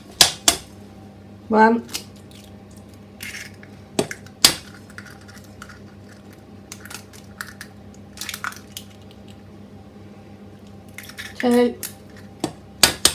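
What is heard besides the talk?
cracking three eggs into cake mix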